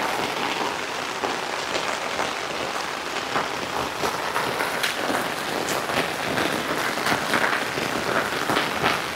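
Steady rain falls across the hills of Uttarakhand, a dense, even hiss of drops with scattered sharper patters on nearby surfaces, continuous and fairly loud throughout with no talking.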